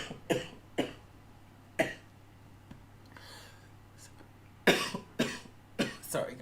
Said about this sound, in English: Sometimes I still cough.